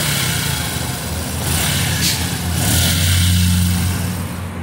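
A Boxer 150 motorcycle engine runs close by, rising and falling through a few throttle blips over a steady mid-pitched idle, with a brief gusty rush in the background.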